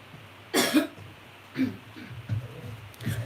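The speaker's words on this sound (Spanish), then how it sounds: "me agarró un ataque de tos" A person has a coughing fit indoors, several harsh coughs in irregular bursts, one strong cough followed by smaller ones and some throat clearing, close and fairly loud against a quiet room.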